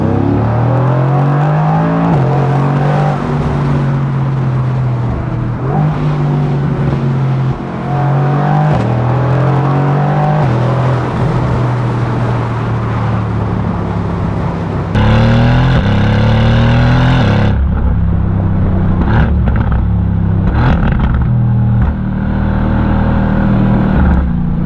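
Mercedes-AMG GT R Roadster accelerating hard, its engine note loud and close, revving up through gears with brief shift breaks and a rising roar, rough and strong across the whole stretch.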